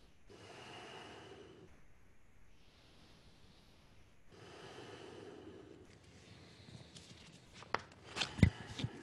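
Deep, forceful yoga breaths during a Kundalini kriya, two long rushing inhale-exhale swells near the microphone, followed by some rustling and soft movement noises.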